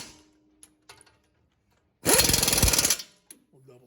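An impact gun rattles in one loud, close burst of about a second, tightening brake caliper bolts on a Ford F-150 front brake, with a few quiet clicks before and after.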